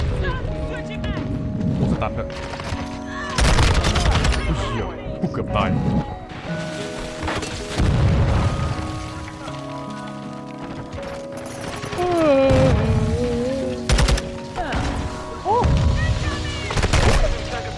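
Video game gunfire and explosions burst in loud bursts over several seconds, with mechanical clatter and a voice talking between them.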